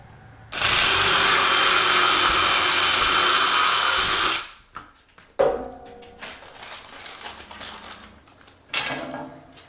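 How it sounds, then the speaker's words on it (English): A power drill bores through a metal wood-stove pipe, its collar and an adapter during a mobile home stove install. The loud steady whine lasts about four seconds, then stops, followed by scattered clunks and scraping handling noises. "What I'm doing is drilling holes through this collar, through the pipe, and through this adapter"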